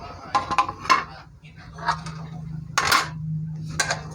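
A metal pot of sinigang na tilapia being covered, with a few clanking lid and cookware knocks spread across a short quiet stretch, close by, alongside faint background hum.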